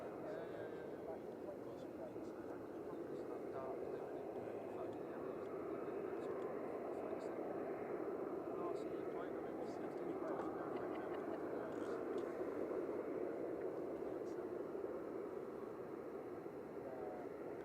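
Malta Air Boeing 737-800 departing Manchester runway 05 left, a steady broad jet roar holding at constant loudness throughout, with faint talk underneath.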